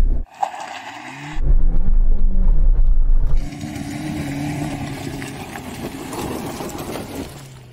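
Suzuki Jimny and Hummer H2 off-road vehicles in a climbing challenge: a loud, close engine roar surges and revs, cuts briefly, then settles into a steady rumbling drive with shifting pitch.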